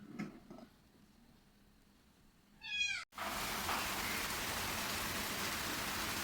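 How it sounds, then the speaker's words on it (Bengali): Heavy rain falls on a rainy day. After a few quiet seconds with a cat meowing, a loud, dense, steady downpour hiss suddenly starts and continues to the end. "প্রচুর বৃষ্টি হচ্ছে"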